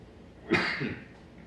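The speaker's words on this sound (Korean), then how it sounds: "부르면 기침이 납니다" A single short cough, close by and fairly soft, in an otherwise quiet room.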